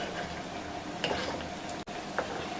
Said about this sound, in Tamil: இப்போ நம்ம கட்லெட் எல்லாத்தையும் பொறிச்சு எடுத்தாச்சு